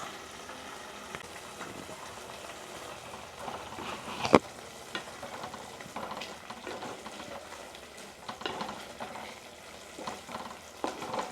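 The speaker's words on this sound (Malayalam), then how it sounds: "നമ്മളിനി മുട്ട ഇതിലേക്ക് തട്ടിക്കൊടുക്കുകയാണ്" Four eggs fry in a hot pan with a steady soft sizzle, and a brief clunk and some stirring scrapes rise now and then above the quiet bubbling.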